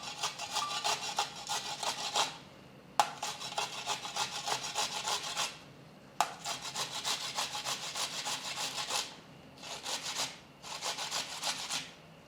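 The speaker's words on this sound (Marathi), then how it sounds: "चला आता ही काकडी किसून घ्यायची." A cucumber rubbed against a metal grater makes rough rasping strokes in long bursts with short pauses between them, each burst ending as the stroke stops. The scraping is close and loud, with no talking.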